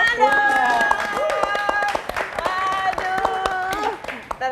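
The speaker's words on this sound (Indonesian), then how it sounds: "Tepuk tangan dong" People clap their hands on an Indonesian talk show, rapid rhythmic claps running throughout under lively overlapping voices and laughter.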